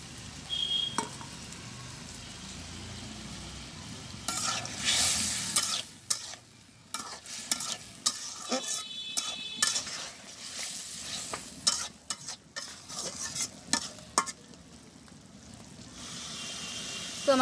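Fried fish going into a sizzling village-style curry: loud, close frying hiss broken by repeated scraping and clinking stirs of a spatula against the pan, bursts coming in irregular waves.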